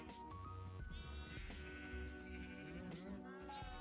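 Sheep bleat in a Minecraft-style building game, several overlapping bleats rising above steady in-game music and ambience, loud and close throughout.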